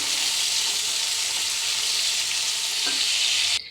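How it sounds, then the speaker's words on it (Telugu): Chopped onions and curry leaves stir-fried in a pan with mustard seeds for bitter gourd fry, a loud, even, continuous sizzle close up with a faint stir near the end and no talk. "కొంచెం కరివేపాకు వేసుకొని ఇలా మిక్స్ చేసుకోవాలి"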